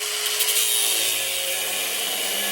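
A power saw cuts through the inner body panel of a 100 Series Toyota Land Cruiser, a loud, steady rasping drone held close and continuous with no pauses.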